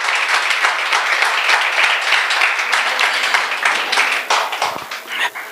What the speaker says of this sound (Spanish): Vamos, denle un aplauso al Señor.